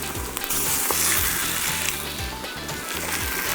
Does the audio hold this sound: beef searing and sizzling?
yes